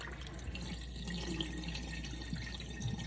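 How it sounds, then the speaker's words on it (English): Cold tap water runs over soba noodles being rinsed in a kitchen sink, a soft continuous splashing stream with faint drips and small clatters, close and fairly quiet. "I'm getting all the cold water through all of the noodles."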